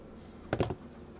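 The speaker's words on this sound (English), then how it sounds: "Shredder Cheese is walking on the keyboard" A cat stepping across a computer keyboard makes a short cluster of three soft key clacks in quick succession, close and brief, set against a quiet room hum.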